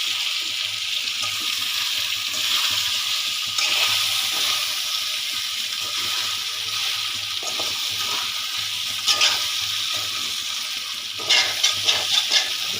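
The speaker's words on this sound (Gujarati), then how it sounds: "ઢોકળાનો સારી રીતે વઘાર થઈ જાય થોડીક વાર એને આવી રીતના ફેરવતા રહેવું ધીમા ગેસે" Muthiya dhokla sizzles in a tempering of curry leaves over a low gas flame, a soft continuous frying hiss with occasional scraping stirs and clinks.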